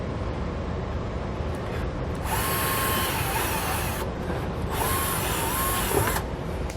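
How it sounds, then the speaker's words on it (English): A power drill whines loudly at close range, drilling small holes in a 2018 Chevrolet Silverado truck bed, spinning up in two bursts with a steady mechanical grind underneath. "we're going to drill a small hole"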